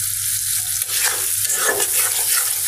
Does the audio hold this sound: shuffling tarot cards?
no